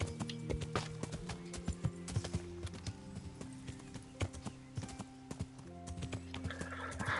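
Rhythmic clip-clop of horse hooves trotting at a steady pace in the video game KCD, fairly close, with a faint whinny and low background tones.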